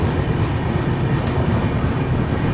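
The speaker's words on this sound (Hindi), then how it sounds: "अभी धीरे धीरे अपनी ट्रेन पहुंच रही है मजरी जंक्शन रेलवे स्टेशन" Rajdhani Express train arriving at Majri Junction station, heard as a close, steady rumble of rolling wheels with faint rhythmic clatter from the carriages, continuous and loud with no talking.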